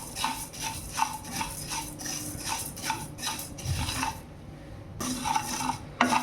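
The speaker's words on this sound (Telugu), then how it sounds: "ఓన్లీ డ్రై ప్యాన్ మీద ఫ్రై చేసుకోవాలి మన ధనియాలు అన్నీ" Coriander seeds dry-roasting in an oil-free pan for rasam powder, with a steady run of rhythmic scraping and rustling strokes as a spatula stirs the seeds. The stirring is close and moderately loud and pauses briefly near the end.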